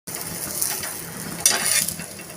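Steady frying sizzle from a cheese corn paratha in hot oil on a griddle, a continuous crackling hiss that swells briefly partway through, with no talking.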